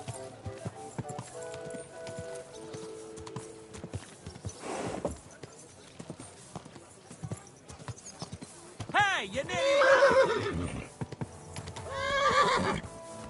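A horse whinnies loudly in a medieval Kingdom Come: Deliverance II setting, with clip-clopping hooves and someone shouting angrily over them, the neighs swelling near the end.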